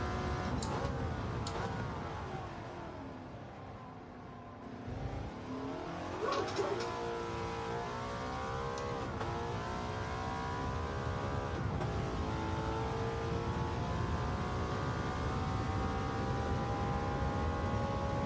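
A race car in Gran Turismo 7 roars through its final lap, engine note rising and falling with gear shifts and a deep dip as it brakes into a corner, then climbing steadily back to full throttle, loud and continuous.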